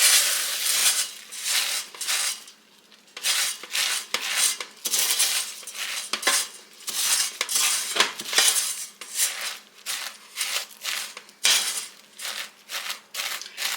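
Dry puffed rice cereal poured into a pot off the heat and stirred in, giving steady crisp rustling and scraping with repeated utensil clinks against the pot, no talking.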